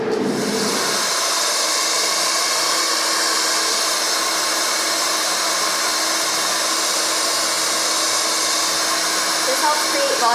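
A hair dryer blows steadily and loudly at close range while a barber dries a client's hair, a continuous hissing airflow roar that holds constant throughout.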